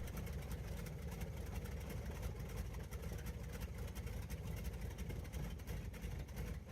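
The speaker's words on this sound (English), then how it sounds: "This power run highlights why the R1820 was trusted in aircraft such as the B-17, DC-3, and numerous military trainers" A Wright R1820 radial aircraft engine on a power run gives a steady, dense throbbing roar that holds constant throughout, heard alone at moderate distance with no speech.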